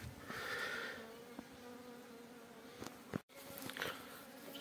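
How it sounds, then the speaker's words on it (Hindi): Honey bees from a newly caught swarm buzz continuously around a captured queen bee, a steady close insect drone that swells and dips with a few brief knocks, and no talking over it. "ये देखिए डंक मारने की कोशिश कर रही है मधुमक्खी क्यून को।"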